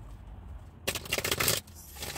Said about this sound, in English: Let's shuffle for Aquarius.